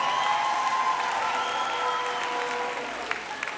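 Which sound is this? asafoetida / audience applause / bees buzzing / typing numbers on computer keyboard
audience applause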